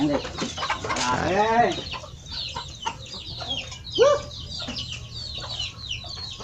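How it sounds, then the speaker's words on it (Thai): Laying hens in a henhouse on a mixed organic farm cluck and squawk repeatedly, with one loud drawn-out call near the start and scattered shorter clucks after, close by over a steady background hum. "ตรงนี้เป็นไก่ไข่ เป็นโรงเรือนเลี้ยง ไก่ไข่"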